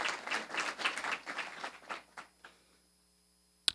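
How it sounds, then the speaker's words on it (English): A school district audience gives the mayor a short burst of applause that fades out over a few seconds, with one sharp clap near the end. "Let's give her a round of applause."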